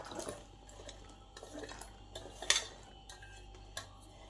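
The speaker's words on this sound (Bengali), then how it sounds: "ঢেঁড়সকে কাটার আগে ভালো করে ধুয়ে নিতে হবে।" Okra is rinsed under running water in a kitchen, a soft trickle broken by clinks of a bowl and utensils, including a sharp clatter midway, close and fairly quiet with no talking.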